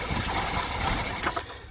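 An Austin Ambassador Vanden Plas engine idling with its carburettors being balanced, a steady mechanical hum running evenly throughout before easing slightly at the end.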